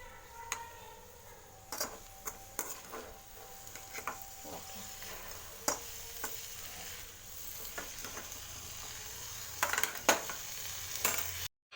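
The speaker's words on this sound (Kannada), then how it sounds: "ಇದನ್ನು ಮಸಾಲೆ ಎಲ್ಲ ಹೊಂದ್ಕೊಳೋವರೆಗೂ ಚೆನ್ನಾಗಿ ಮಿಕ್ಸ್ ಮಾಡ್ಕೋಬೇಕು" A mixed vegetable curry of potato, carrot and beans is stirred with masala in a pan, giving soft scraping and light sizzling with scattered spoon taps against the pan, close and fairly quiet.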